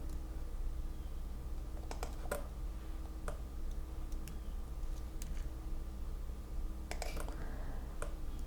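Sparse, faint keystrokes on a computer keyboard during 3D modelling work in Blender, scattered taps and small clusters over a steady low hum.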